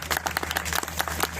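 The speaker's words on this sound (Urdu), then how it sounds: "تو آپ تالی بجا سکتے ہیں" Audience clapping at a funny poetry programme, a steady patter of many hands with rhythmic bursts throughout, moderately loud and continuous.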